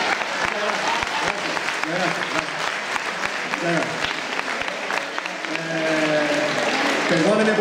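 An audience at a gala show gives sustained, dense applause that swells toward the end, with a voice talking over the clapping.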